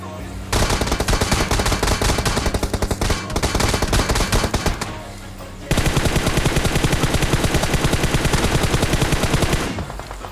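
Sustained automatic gunfire in PUBG rattles loudly and almost continuously, with a brief lull midway before another long burst of rapid shots.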